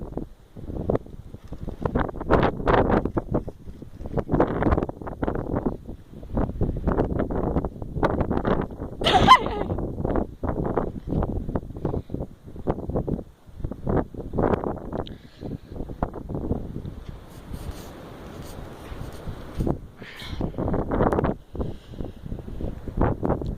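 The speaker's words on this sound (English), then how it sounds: "Goddamn windy out here." Strong outdoor wind batters a microphone in repeated gusts and buffeting bursts, loud and close, with rustling between them.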